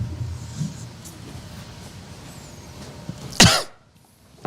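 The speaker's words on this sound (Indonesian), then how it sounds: "Ya, itu batuk." A single sharp cough bursts out near the end after a stretch of quiet room tone in an indoor religious lecture setting, followed by a brief hush.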